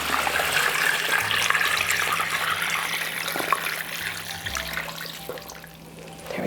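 Tap water running steadily into Instant Pot inserts filled with chicken stock, a close, continuous rushing pour with a faint trickling texture that stays even throughout.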